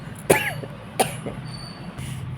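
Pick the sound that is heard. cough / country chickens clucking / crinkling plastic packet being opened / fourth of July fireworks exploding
cough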